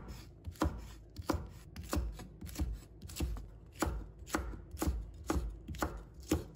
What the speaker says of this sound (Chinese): 把里面的辣椒籽去掉，切成2段，再改刀切成丝。